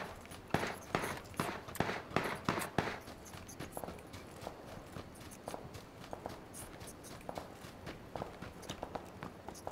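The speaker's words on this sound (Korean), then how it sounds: "야, 왼쪽에서 발소리 들리는데." Footsteps in the video game PUBG: a run of quick, regular footfalls, louder at first and then lighter and more spread out, heard alone without talk.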